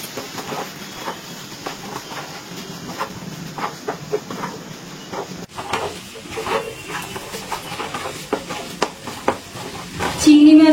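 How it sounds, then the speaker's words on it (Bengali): Prawn and papaya curry with ghee and garam masala being stirred in a pan: a steady sizzling hiss with irregular scraping and tapping of the spoon, close by, ending in a louder burst. "আর গরম মশলা ভালো করে মিশিয়ে নিচ্ছি।"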